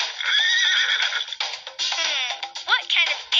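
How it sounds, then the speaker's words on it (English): A horse neighs loudly and up close, a long shrill whinny with quavering, stuttering bursts and a few breathy snorts over about three seconds, no talking. "What kind of animal says nay? See, a horse."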